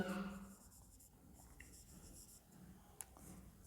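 Marker or chalk scratching on a board during a class 7 maths lesson on circle circumference, with soft, intermittent strokes and taps up close, accompanied by brief speech at the start.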